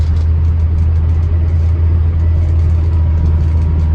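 An Austin Allegro car driving along a country road, with a steady, loud low engine rumble and road noise throughout, no voices.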